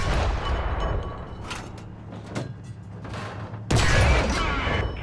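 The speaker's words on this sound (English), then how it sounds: "Fire a few shots at the tank." Tank cannon shots ring out in War Thunder, fired at an armored tank during training: a few heavy blasts with mechanical clanks between them, the loudest shot coming near the end.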